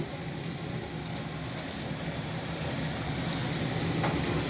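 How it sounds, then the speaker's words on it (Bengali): Dried red chili tempering crackles steadily in hot oil, a soft continuous sizzle close by with no talk over it. "শুকনো লঙ্কা একটা ফোড়ন দিলাম"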